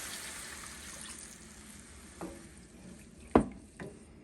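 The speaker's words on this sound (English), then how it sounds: "Now we're going to add the water." Water poured into a hot pan of browned beef tips while making beef tips and noodles, giving a steady low sizzling hiss with a sharper splashing burst near the end.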